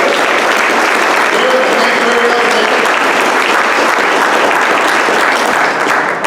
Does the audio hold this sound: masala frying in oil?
no